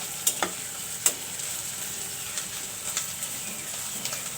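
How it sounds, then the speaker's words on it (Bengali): Onions and chillies frying in a pan while being stirred: a steady soft sizzle with a few sharp scraping and tapping clicks of a utensil against the pan, close up, no talk. "তো আমি একটু পেঁয়াজ মরিচগুলো ভেজে নিচ্ছি।"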